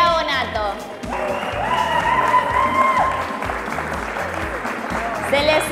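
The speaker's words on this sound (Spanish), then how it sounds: "Un aplauso muy grande, por favor, para Mateo Álvarez y Bravo Nato." Applause from an audience at a sixth-category padel master awards ceremony for the two champions, a dense wash of clapping lasting the whole stretch, with a voice and some tonal sound over it.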